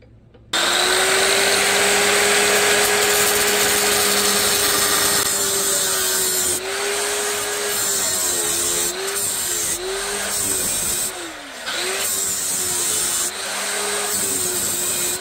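A jackhammer chisel cuts a V-groove into the copper of a large electric motor, a loud sustained buzzing hammer that starts abruptly, then stutters and dips in several short bursts and pauses toward the end.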